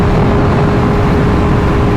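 A BMW S1000RR motorcycle accelerating in sixth gear makes a loud, unbroken engine roar mixed with rushing wind, with a steady drone running through it.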